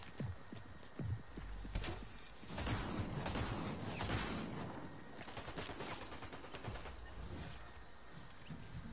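Sharp gunshots crack in a Fortnite match, several separate reports spread irregularly over the stretch amid steady game ambience.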